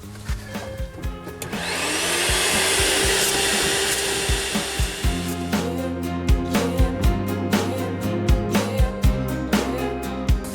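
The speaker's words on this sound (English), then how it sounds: "the inbuilt Hoover keeps everything shipshape on board" A built-in vacuum cleaner in a truck cab whirs up to a steady whine, then keeps running under a series of regular bumps and knocks as it is moved around nearby.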